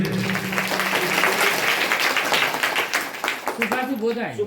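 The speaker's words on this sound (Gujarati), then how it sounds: "જોરદાર તાળી થઈ જાય" A crowd at a children's school parliament election claps for a candidate's vote count, a burst of applause that fades as a voice speaks over it.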